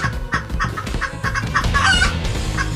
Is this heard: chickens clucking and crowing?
yes